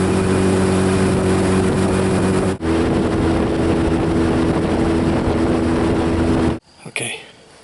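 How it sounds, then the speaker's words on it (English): A Yamaha outboard engine drones steadily as the boat travels up a river channel, loud and close, with a brief dip partway through before cutting out near the end. "Oh, engine's still running good. Take back what I said about Yamahas."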